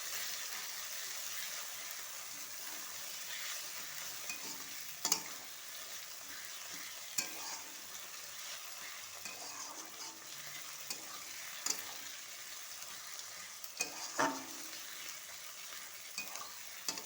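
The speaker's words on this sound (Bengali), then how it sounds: "রসুনটা একটু ভাজা ভাজা হয়ে গেছে" Garlic paste frying in a pan, a faint continuous sizzle with occasional scraping clicks and knocks as it is stirred, no voices.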